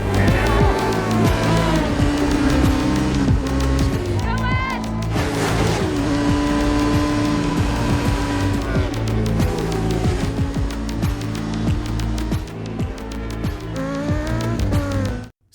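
Motorcycle race start with engines roaring loudly and steadily, mixed with a sustained tonal, music-like layer and tire noise throughout, cutting off abruptly at the end.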